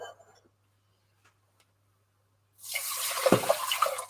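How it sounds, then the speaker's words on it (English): Water pours from a container into a pot of rice for coconut rice, a broad, splashing rush that starts suddenly after a quiet pause and continues steadily, close and fairly loud, with some faint voice sounds at the start. "We're going to add 2 cups of water"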